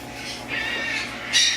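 A cockatoo gives harsh, raspy squawks in several drawn-out bursts, ending with a louder, sharper screech, all heard close up against a quiet room background.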